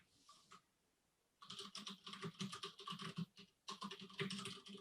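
Fast typing on a computer keyboard, close and quiet, with two dense bursts of rapid key clatter separated by a short pause and a few stray taps before, no talking.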